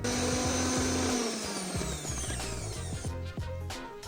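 A blender grinds onion and garlic for young radish kimchi, its motor whining loud and steady, then dropping in pitch as the load thickens, with a brief stutter near the end. No one speaks.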